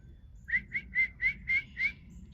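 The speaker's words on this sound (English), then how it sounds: "Oh, I can whistle a little bit." A person whistles six short, evenly spaced notes at a steady pitch, clear and close, with faint low background noise.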